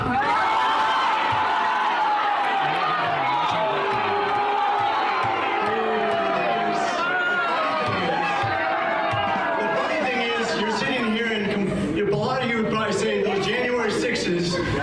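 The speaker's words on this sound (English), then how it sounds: "So they chanted shame at him, and then he tried to move on, and they didn't let him." An audience yells and chants in unison at a speaker at a political event, a dense, loud crowd roar with whoops and cheering that holds through the whole stretch, without a clear single voice.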